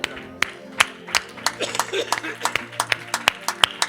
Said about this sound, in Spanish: Dele esa ofrenda de palmas.